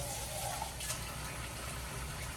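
Tap water gushes steadily over canned beans held in a larger can, a continuous close splashing rush with no voices.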